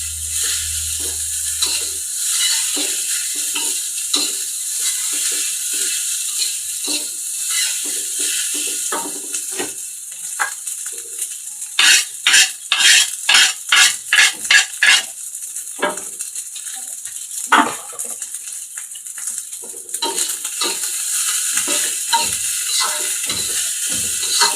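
Egg fried rice stir-fried in a pan, cooked with the egg left half-done: steady clattering spatula scrapes and sizzling, with a burst of rapid rhythmic metallic strokes midway, close and fairly loud, no talking.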